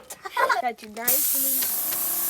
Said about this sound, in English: This is the paint sprayer that Aaron uses.